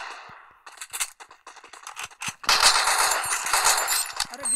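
Gunfire erupts in a multiplayer shooter video game: scattered single shots and short bursts at first, then dense, loud, rapid automatic fire, with no voices.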